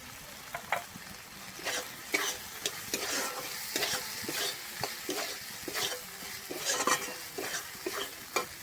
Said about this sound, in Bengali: মশলাটা কিন্তু খুব ভালোভাবে কষানো হয়ে গেছে আমার মশলা থেকে তেল ছেড়ে দিয়েছে